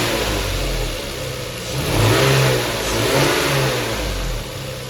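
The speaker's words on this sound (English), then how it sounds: "You can use the accelerator cable spool to give the engine a few revs and make sure everything sounds smooth." Lexus GS 300 with a 2JZ-GE inline-six, revved by hand at the throttle cable spool under the open hood, rising in a couple of steady swells over a continuous idle and fading back, loud and close with no talk.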